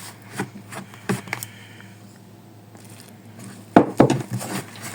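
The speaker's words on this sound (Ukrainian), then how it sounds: "швиденько замішую тісто ложкою, тому що гаряче" A spoon scrapes and knocks against a bowl in short bursts while mixing dough for mint gingerbread, quieter in the middle, then a few louder clunks near the end.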